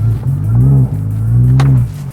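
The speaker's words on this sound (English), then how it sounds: "We've been right the way through the rev range and it is running sweet." Hatchback car engine revving steadily near the microphone, climbing and holding its pitch with a brief dip and a second push before easing off.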